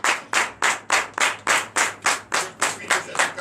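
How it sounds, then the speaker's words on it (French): A congregation at a Sunday church service in Benin claps in a rhythmic unison beat, about three or four loud, even claps per second, close and sustained. "Donnez encore de vive acclamation au Seigneur."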